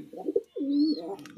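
Close cooing of Lotan pigeons: a low, throaty coo, a short pause, then a longer rolling coo, with a faint flutter or shuffle in the background.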